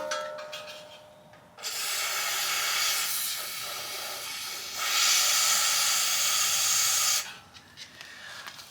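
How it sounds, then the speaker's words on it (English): Rust penetrant sprayed from an aerosol can down the spark plug hole of a seized Coleman CT100 minibike engine cylinder, two long steady hissing bursts close up with a short pause between them. "So I'm gonna put a whole bunch of lube down the cylinder."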